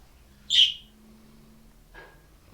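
A pet bird gives a single bright, close chirp, followed after a pause by a fainter short call against a quiet background.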